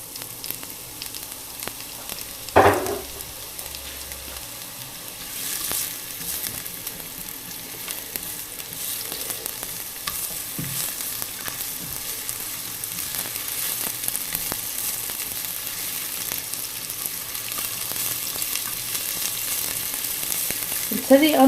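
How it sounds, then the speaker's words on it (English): Onions frying in a pan for king prawn chow mein give off a steady, close hiss of sizzling that runs throughout, with a brief clatter early on and no talk. "So what we're going to do now is we're going to add the onions."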